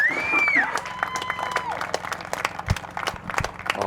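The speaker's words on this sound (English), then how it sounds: "one more round of applause for our senior class" A crowd applauds and cheers for the senior class on senior night at a high school baseball game, with scattered claps and shouts outdoors, a high whistle early on and voices mixed in.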